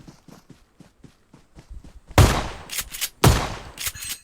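Two loud shotgun blasts in the mobile battle-royale game BGMI/PUBG, each a sharp boom with a ringing tail, preceded by a run of soft rhythmic footsteps.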